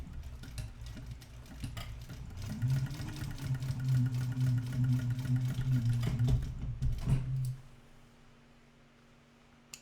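A sewing machine top stitches a bag, starting up after some light handling noises and running in a steady close whir for about five seconds before stopping, then quiet.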